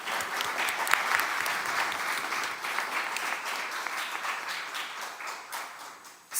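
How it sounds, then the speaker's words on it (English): An audience at a climate action talk gives a round of applause: steady, dense clapping from a crowd lasting about six seconds, fading slightly toward the end. "So I think you need to give them a big round of applause."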